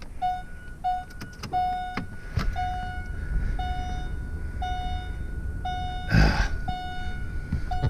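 Key turned in the ignition of a C5 Corvette that is failing to start: a repeating electronic chime beeps at a steady rhythm while soft clicks and a brief electrical whir sound from inside the car, no engine catching.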